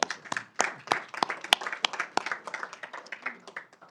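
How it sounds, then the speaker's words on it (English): A city council meeting audience claps, a thin scattered round of individual hand claps, irregular and moderately near, with no talking. "let's give all Native Americans a round of"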